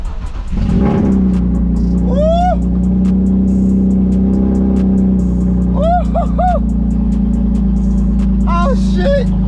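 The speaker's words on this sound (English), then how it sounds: "Let me try to start this car." A BMW E36 engine running loud and steady after a cold start, with a deep continuous rumble that fills the whole clip while excited voices shout over it several times.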